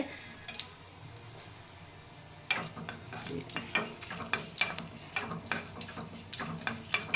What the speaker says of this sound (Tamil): நல்லா கருப்பாக ஆகிற அளவுக்கு நம்ம வறுத்துக்கணும்